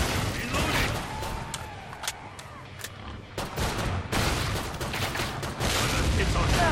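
Repeated weapon fire in the co-op zombie shooter Killing Floor 2 on a survival map, sharp cracks and bursts spread through the clip over a dense layer of game noise.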